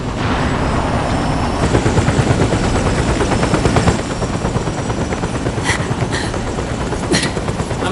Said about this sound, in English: Snake, I'm setting the chopper down at the market square.